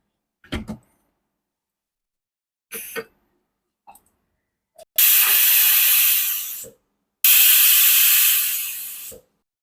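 A pressure cooker holding guvar dhokli, a cluster bean curry with wheat dough dumplings, lets out two long, loud hissing steam whistles, each lasting about two seconds, after a few short clicks and knocks.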